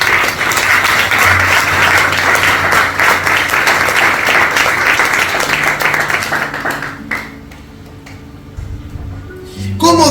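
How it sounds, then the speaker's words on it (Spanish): A church congregation claps in loud, sustained applause for several seconds, then it fades into scattered claps and a low hum of voices and music. "Vamos a darle un aplauso al Señor."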